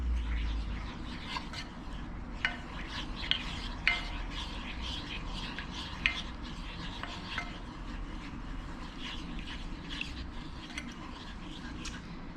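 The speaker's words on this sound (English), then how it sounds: "And then just give that a nice mix around." Garlic being stirred into butter in a pan, a steady soft sizzle running throughout with scattered scraping clicks of a utensil against the pan, close and continuous.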